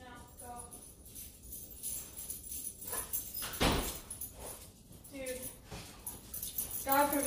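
Pet dogs whine and whimper indoors in a few short, high, nasal bursts, with a door sliding and people talking loudly over them.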